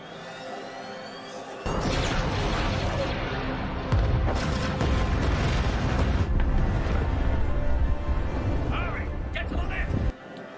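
Artillery bombardment of the planet Kamino in Star Wars: The Bad Batch, a sudden loud sustained roar of blasts and crashing impacts that runs for several seconds, with speech mixed in.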